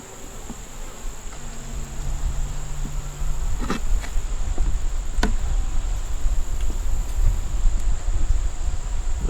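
Honeybees from a small swarm colony building comb around a red-marked queen hum steadily and close, a dense drone growing louder partway through, with a few faint clicks and knocks.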